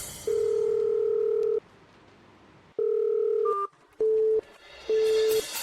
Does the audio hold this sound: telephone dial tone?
yes